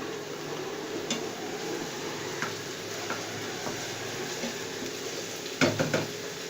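Chopped garlic and ginger frying in a pan for egg masala give a steady soft sizzle, broken by a few light clicks and scrapes of stirring, with a cluster of utensil taps near the end.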